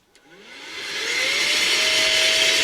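An air blower dusts a Tag Heuer chronograph watch, rising quickly from a click into a loud, steady rushing whoosh held close by.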